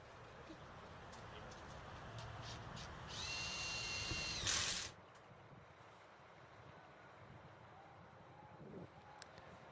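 A power drill briefly drives fasteners into canopy fascia during an outdoor installation, one short whirring burst of a second or two over wind noise and a low narrating voice.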